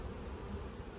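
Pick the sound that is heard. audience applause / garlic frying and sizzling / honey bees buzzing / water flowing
honey bees buzzing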